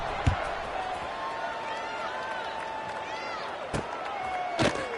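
A stadium crowd in an NCAA college football game buzzes steadily at a distance after a score, a continuous murmur broken by a few sharp thuds and bursts of noise, with a commentator talking over it.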